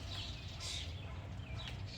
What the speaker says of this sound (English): the chickens are all going in